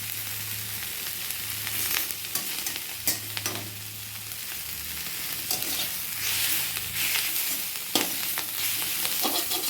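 Neem leaves sizzling in a hot pan for neem begun, a continuous close crackle with repeated clattering stirs and scrapes throughout.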